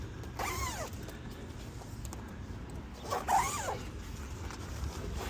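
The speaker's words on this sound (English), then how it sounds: "Open up your other bag before you bring the sky panel around." A storage bag for a Hummer EV sky panel being unzipped, two quick rising zip strokes a few seconds apart, close and fairly quiet over a low background rumble.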